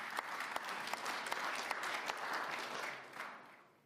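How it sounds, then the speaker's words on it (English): An audience at the Munich Security Conference breaks into applause, a sustained patter of many hands with a few sharper individual claps, fading out over the final second. "That's an applause line."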